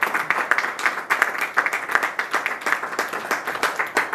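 A small audience at a political party gathering claps in a loose, uneven rhythm of distinct, moderately loud hand claps, with no cheering voices audible.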